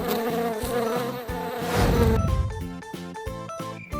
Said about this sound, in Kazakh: Ара.